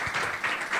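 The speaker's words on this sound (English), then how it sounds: "How about a round of applause for our panel?" Audience applause at a media symposium for a panel, a brief burst of clapping under a second long, moderately loud and fairly even.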